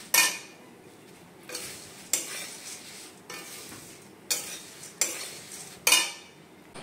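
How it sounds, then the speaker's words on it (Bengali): Flattened rice dry-roasting in a pan is stirred with a utensil, making about six sharp scraping and clattering strokes at a slow, uneven rhythm, close and fairly loud over a quiet background. "এই যে আমি একদম অল্প নিয়েছি চিড়ে, যাতে বুঝতে পারি আমি যে ভাজাটা ঠিক কেমন হয়েছে।"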